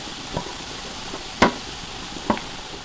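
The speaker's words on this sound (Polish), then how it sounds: "Teraz do cebuli dodaję pieczarki i nadal podsmażam." Onion and mushrooms fry in butter in a pan, a steady soft sizzle close by, broken by a few sharp scraping stirs of a utensil, with no one talking.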